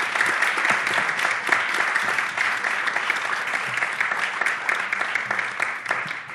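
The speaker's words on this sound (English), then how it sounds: "please give them a warm applause here" A large festival audience applauds warmly at a queer cinema award event, dense steady clapping filling the whole stretch without a break.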